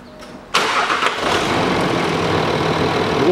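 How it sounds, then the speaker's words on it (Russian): A Land Rover Discovery 4 engine cranks and fires up about half a second in, then settles into a steady, loud idle that runs to the end, during a power-steering fluid change. "А вот теперь делаю короткий запуск двигателя."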